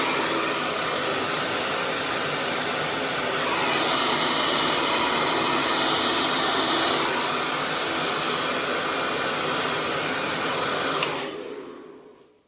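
A hair dryer blasting hair dry runs as a steady loud whooshing roar, its pitch lifting briefly midway, before it cuts off and winds down at the end; no one speaks.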